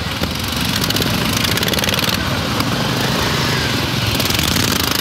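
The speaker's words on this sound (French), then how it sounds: "Et là devant nous, il y a des courses de tracteurs tondeuses." Ride-on lawn mower tractors race outdoors at a French fair, their engines droning loud and continuous with a buzzing, rattling tone and no pauses.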